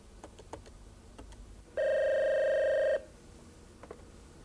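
A telephone handset rings once with a steady electronic tone for about a second while placing a call. Faint dialing clicks come before it and again after.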